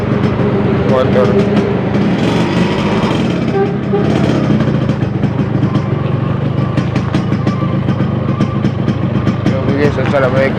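A motorcycle engine runs loudly up close at night, with a rough, rattling, continuous buzz and uneven revs, while people talk over it.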